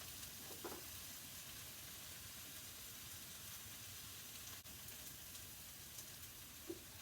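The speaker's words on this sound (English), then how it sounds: "I'm gonna just place my salmon face down in the pan" Salmon fillet searing face down in a hot pan, a steady low sizzle and hiss running throughout with no talk.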